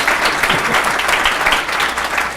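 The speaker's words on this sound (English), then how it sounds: "have a nice round of applause" A banquet crowd at a hall of fame induction dinner gives loud, close, continuous applause. The dense clapping holds steady through the whole stretch.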